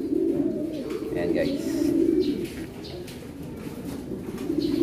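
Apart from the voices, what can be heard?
racing pigeon cooing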